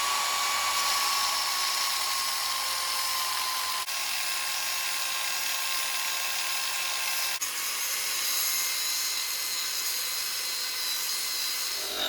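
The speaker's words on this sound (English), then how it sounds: "let's get this on the grinder" A grinder cutting the thread off a car drive shaft, a loud continuous high-pitched grinding whine held steady throughout, no talk.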